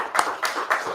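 Three sharp hand claps at a steady beat, close and crisp, separated by short gaps in a quiet room during a talk.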